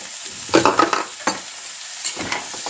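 Peas tipped into a pan of spiced vegetables and stirred in while cooking for a vegetable biryani: a cluster of scraping, stirring clatters with a soft sizzle underneath, then fainter scrapes later, close and moderately loud with no talking.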